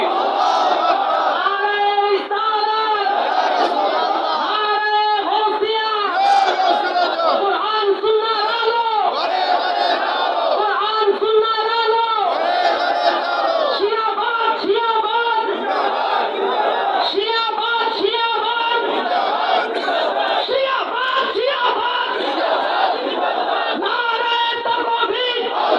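A large crowd at an Islamic religious sermon chanting the takbir in unison, loud rhythmic repeated shouts filling the whole stretch with little pause.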